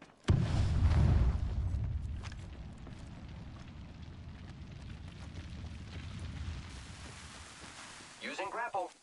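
A grenade detonates in the video game Apex Legends with a loud, close boom near the start, followed by a long, lower rumble of gameplay noise. A voice speaks briefly at the very end.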